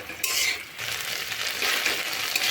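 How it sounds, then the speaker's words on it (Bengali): Boiled okra fries in a fresh spoonful of oil with a close, lively sizzle, opening with a sharp scrape of stirring against the pan, then a continuous crackling hiss with no talking. "আরও 1 চামচ তেল দিয়ে আমি ঢ্যাঁড়সগুলো আরও একটু ভেজে নেব।"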